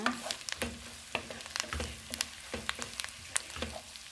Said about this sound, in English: at this point, I'll add a bit of onions to it